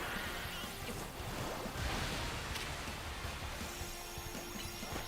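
Hydro Pump water attack in the Pokemon Legends Z-A video game: a steady, loud rushing gush of water like crashing surf, sustained throughout with no speech.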